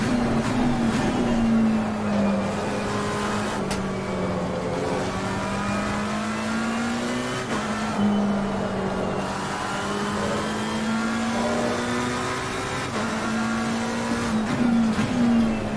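A McLaren race car engine in the Assetto Corsa Competizione racing game, a loud, continuous high-revving drone that climbs through gears with sharp shift breaks and brief lifts, sustained throughout with no talk.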